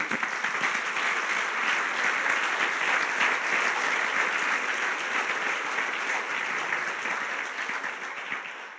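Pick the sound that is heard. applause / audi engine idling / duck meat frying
applause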